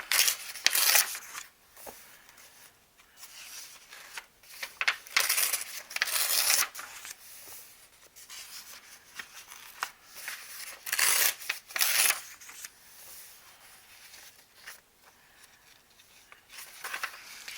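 Thick pages being torn out of an altered book journal, heard as a series of sharp ripping and crinkling paper bursts of varying length, close and fairly loud, with quiet gaps between them and no talk.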